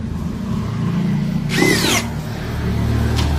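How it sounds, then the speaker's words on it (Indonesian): A DCA ADJZ2060i drill running in drilling mode at speed 2 with an auger-like bit, giving one brief loud whining burst over steady background noise, close by and without talking. "Masih mode drilling."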